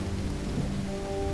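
Rain and rumbling thunder in the video game Call of the Elder Gods, a steady dense downpour with a low continuous roll underneath and a faint tonal hum, no voices.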